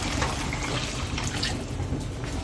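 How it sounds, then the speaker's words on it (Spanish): Water streams steadily into a cooking pot to cover chicken, a close, continuous splashing pour that holds an even level throughout. "vamos a añadirle agua hasta cubrirlo para que se vaya cocinando el pollo"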